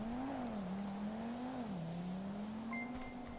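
Engine drone of a motorcycle approaching on a highway in a GTA RP game, a steady tone that wavers and climbs slightly, heard alone and fairly constant throughout.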